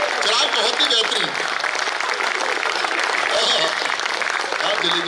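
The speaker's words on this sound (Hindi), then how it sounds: "भाई एक बार जोरदार तालियां" Loud, steady applause from a large audience at a Hindi comedy poetry show, a dense continuous wash of clapping that fills the whole stretch without a break.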